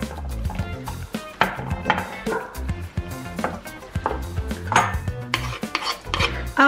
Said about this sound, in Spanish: Vamos a echar el huevo a la verdura. Y lo vamos a mezclar bien.